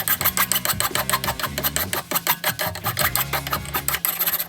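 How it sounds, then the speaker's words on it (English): A metal file rasps back and forth across the cut end of a bicycle suspension fork's steerer tube in quick, rhythmic strokes, fairly loud and close, with a low steady hum underneath. "So I'm just going to use a metal file."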